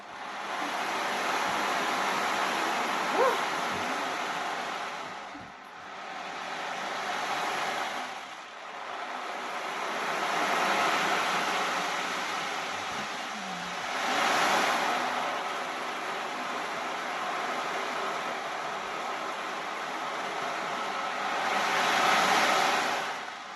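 An ocean drum filled with small pebbles imitates waves, producing a continuous hissing, rolling wash that swells and recedes in several slow surges, close and fairly loud, with no talk.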